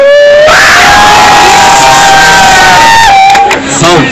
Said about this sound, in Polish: twoje koledzy krzyczą